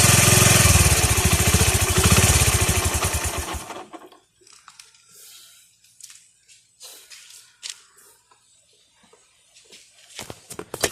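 A motorcycle engine cranks and runs loudly for about four seconds, a close, steady chugging drone, then cuts out, leaving faint handling clicks and small knocks nearby.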